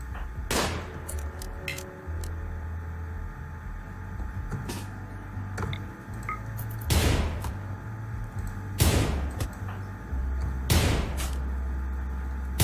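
Gunfire aimed at an emu in the video game RimWorld, set in a desert: half a dozen sharp, separate shots at uneven intervals over a low, steady hum.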